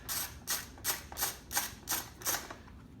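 Socket wrench working bolts loose on a 2019 Kawasaki KLX140G dirt bike, a run of seven evenly spaced, crisp ratcheting clicks close up, with no talk.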